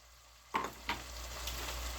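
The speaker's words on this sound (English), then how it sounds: "saute my onions, peppers in there" Onions and peppers saute in a small pan, a steady close broadband sizzle running throughout, with two sharp clatters early on as food or a utensil hits the pan.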